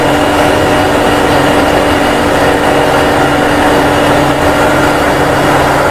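An engine held at a constant 700 RPM during a valve adjustment, a loud, steady, unbroken drone with a persistent hum.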